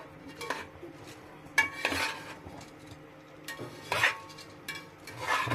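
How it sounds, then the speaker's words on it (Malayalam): Metal spoon scraping and clanking against a pot while vegetable pulao is stirred with masala, several irregular knocks and scrapes over a faint background, fairly quiet and close. "നമ്മൾ നല്ല അടിപൊളിയായിട്ട് ഈ മസാലയുമായിട്ട് നല്ല മിക്സ് ചെയ്തിരിക്കുകയാണ്"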